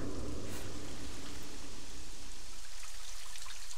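Rain falls in Myst V: End of Ages as a steady hissing patter over a low watery wash, continuous and moderately loud, thinning slightly toward the end.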